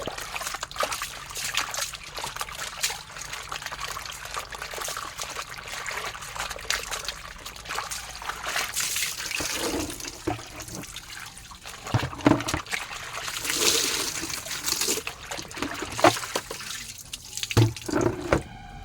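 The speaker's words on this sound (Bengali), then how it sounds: "এবার হচ্ছে পরিষ্কার জলে দিয়ে দিলাম, আর একবার থেকে দুবার ধুবো" Clothes are rinsed by hand in a basin of clean water, with sloshing, trickling and dripping throughout and some louder splashes toward the end, and no voices.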